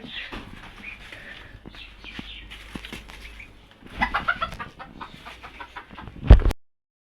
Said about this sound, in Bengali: উড়ে এই যে টিনের মটকার উপরে গেছে